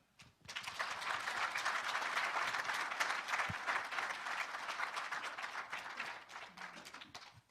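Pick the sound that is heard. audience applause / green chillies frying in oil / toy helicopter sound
audience applause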